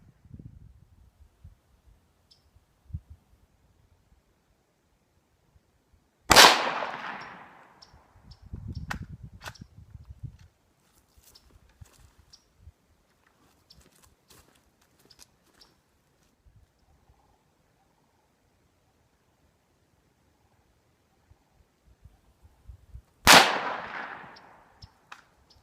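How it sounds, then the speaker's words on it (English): Two sharp rifle shots from a Ruger American Rimfire .22 Magnum at an outdoor range, spaced far apart with quiet handling clicks and faint shuffling between them. "Let's go shooting."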